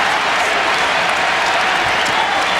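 A packed basketball arena crowd at Purdue versus Indiana roars and cheers in a dense, loud, unbroken wall of noise.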